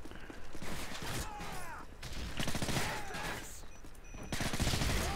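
Rapid gunfire in a Modern Warfare 3 match comes as repeated bursts of loud cracks, mixed with game effects and clipped tones, with no voices.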